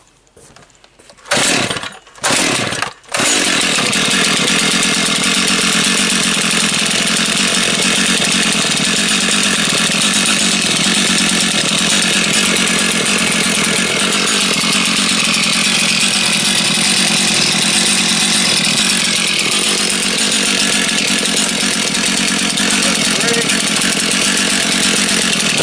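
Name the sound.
Stihl MS261C and MS 391 chainsaws starting up and running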